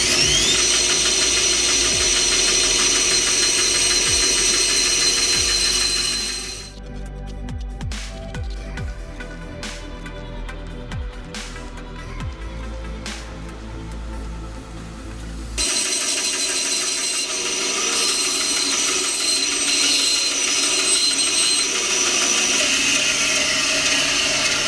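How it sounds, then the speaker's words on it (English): Bandsaw cutting wood for a shotgun pistol grip, a loud steady motor whine and blade hiss, with a quieter rougher stretch of cutting in the middle before the full whine returns. "I haven't used my bandsaw in a while. I'm gonna give it a shot."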